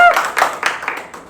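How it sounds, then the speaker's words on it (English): A brief burst of audience clapping for a guest professor at a talk, scattered individual claps fading quickly over about a second. "can you please have a loud round of applause for Professor Bose?"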